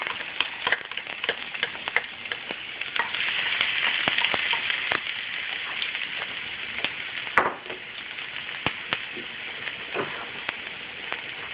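Garlic sizzles in about four tablespoons of oil in a frying pan, a steady close crackling fizz dotted with sharp pops and ticks throughout.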